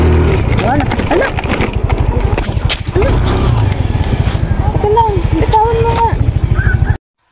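A motorcycle engine runs with a loud, throbbing rhythmic putter close by, while people talk over it, before it cuts off abruptly.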